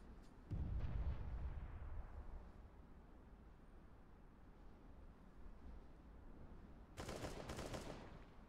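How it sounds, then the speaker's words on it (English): A grenade in the game CS:GO: a deep thumping blast opens, a low rumbling tail follows and fades into a steady hum, then a second sharp burst of gunfire-like crackle arrives near the end. "I'm throwing a grenade."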